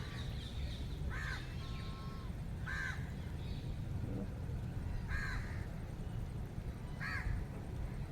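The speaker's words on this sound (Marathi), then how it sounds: "तिकडे आतमध्ये पण खूप मोठं असेल ना मोर वगैरे सगळा आवाज केवढा घुमा लागलाय" Crows cawing at Kolhapur's New Palace zoo grounds, a handful of separate harsh caws at moderate distance over a steady outdoor hum.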